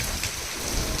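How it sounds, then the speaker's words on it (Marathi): Heavy rain pours down outdoors, a dense continuous hiss and patter with a low rumble beneath, steady and close, with no voices. "पाऊस जोरात आला"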